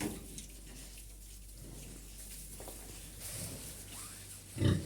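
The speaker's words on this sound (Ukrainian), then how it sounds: "Упоросилась недавно ця свиноматка вчора вечором лягає." Sow that recently farrowed, lying with her piglets in fresh straw, giving soft low grunts with faint rustling and a louder grunt near the end.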